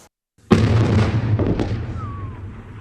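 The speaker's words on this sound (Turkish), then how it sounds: "Türk Silahlı Kuvvetleri terör örgütü PKK'nın Suriye'deki kolu YPG'nin geçen gün ele geçirdiği bölgelere top atışları yaptı." A Turkish army howitzer fires a single artillery round: after brief silence, a sudden heavy boom bursts out and rolls into a long rumbling decay with echoes, no voices over it.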